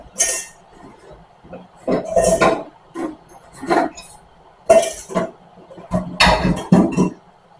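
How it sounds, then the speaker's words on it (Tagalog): Dishes, pots and cutlery being washed at a home sink, with repeated clinks and clatters of metal and crockery coming in bursts, close and fairly loud, alternating with quieter rinsing gaps. "Dami kong hugasan, dami kong lilinisan."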